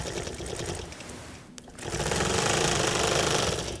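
A longarm quilting machine stitches in the ditch with a loud, steady, close mechanical buzz that dips briefly as it slows, then picks up again and runs evenly.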